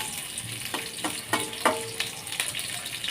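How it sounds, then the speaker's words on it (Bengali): Sliced onions and green chilies fry in hot cooking oil in a pan, a steady close sizzle broken by a few soft stirring knocks against the metal. "পেঁয়াজ কাঁচামরিচগুলো কিছুক্ষণ ভেজে নিচ্ছি।"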